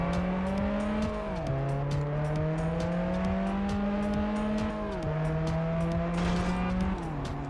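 Race car in Test Drive Unlimited on PS2, engine droning loudly and steadily with clear downshifts and upshifts, a brief tire squeal near the end while weaving through traffic.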